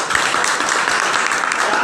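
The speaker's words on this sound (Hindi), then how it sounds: "ताली होना चाहिए।" An audience at a business seminar breaks into loud, dense applause, a continuous crackle of many hands clapping close by with no speech over it.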